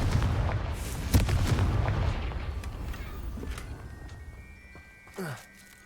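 Confringo explosive spell in the Hogwarts Legacy video game, a loud booming blast at the start that rumbles and fades over several seconds, followed by a short whooshing burst near the end.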